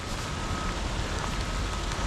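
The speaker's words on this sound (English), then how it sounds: "The rain's really picked up." Heavy rain falls on a panfishing trip, a dense, steady hiss of drops with no pauses, close and fairly loud throughout.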